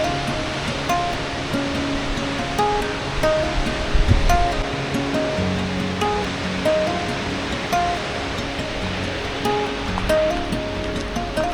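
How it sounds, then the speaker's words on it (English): Thompson Falls, a 74-metre waterfall in Kenya's central Rift Valley, roaring as a constant broadband rush of falling water, steady and full throughout with no talk, only a faint thump partway through. "on the way we stop at Thompson Falls, a 74-metre waterfall in the central Rift Valley."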